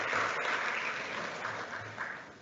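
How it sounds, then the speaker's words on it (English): A crowd at a symposium claps steadily for a couple of seconds, a dense, even patter of applause that tapers slightly at the end. "Let's give Noe and Lara a round of applause again."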